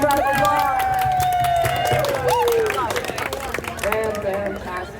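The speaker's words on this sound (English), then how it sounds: "Everyone give yourself a big round of applause." A crowd at an outdoor Earth Day climate rally bursts into steady applause and cheering, with whoops and voices rising through the clapping for the full stretch.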